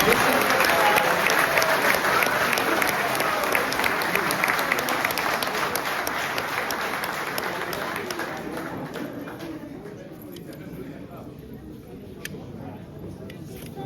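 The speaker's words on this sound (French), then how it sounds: "Applaudissez-les encore une fois, s'il vous plaît." Loud, sustained audience applause from a crowd at a Kabylie independence declaration ceremony, dense steady clapping that gradually thins and softens toward the end.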